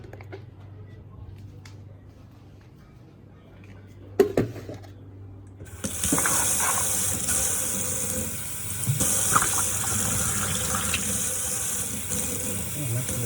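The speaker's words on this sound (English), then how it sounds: "Mixing this out real good with hot water." Hot water runs from a tap while home brew bottle sanitizer is mixed. After a few quiet seconds with a faint low hum and a brief knock, a loud, steady gush starts and keeps going.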